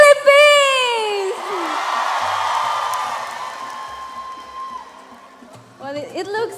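A large audience at the Miss Earth 2017 final whoops, screams and cheers in a swelling roar that fades, with a voice ringing out at the start and someone speaking near the end.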